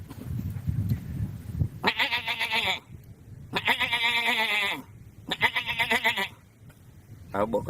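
A man imitates an adult goat, giving three loud, wavering bleats, each about a second long and separated by short pauses, with a fourth starting at the end over a low background rumble.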